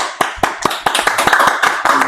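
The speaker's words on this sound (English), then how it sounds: "Round of applause, guys." A small group in a casual chat setting claps in a brief, uneven round, with sharp hand claps at irregular intervals close to the mic over a background of murmuring voices.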